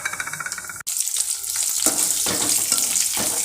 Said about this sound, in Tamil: நல்லா கருவேப்பிலை வதங்கணும்